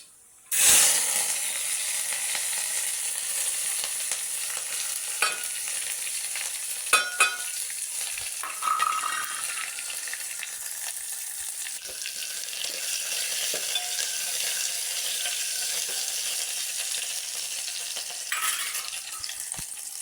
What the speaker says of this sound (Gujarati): તેલ સરખું ગરમ થઈ જાય એટલે એમાં રાઈ નાખી દઈએ